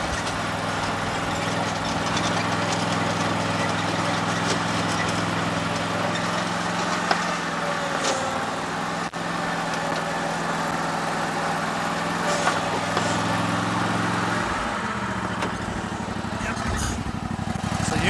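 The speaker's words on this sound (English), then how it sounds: "I'm using the wireless mic on a running lawnmower" A riding lawnmower engine runs steadily and loud throughout, with a low idling drone close to the microphone, and its tone shifts briefly near the end.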